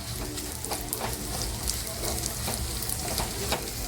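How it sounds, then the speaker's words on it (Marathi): Whole spices, including torn bay leaves, crackle and sizzle steadily in a hot pan, a dense frying hiss with small pops and occasional stirring scrapes. "ते सुद्धा टाकून याच्यामध्ये छान गरम करून घेते"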